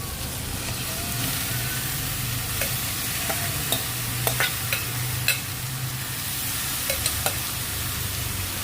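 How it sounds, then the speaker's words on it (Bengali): Onions sizzle steadily in a hot pan, lightly fried, while a utensil scrapes and stirs, with sharp clicks of metal against the pan scattered throughout. "এবার আমার এটা মোটামুটি পেঁয়াজটা আর এটা হালকা হালকা ভাজা হয়ে গেছে"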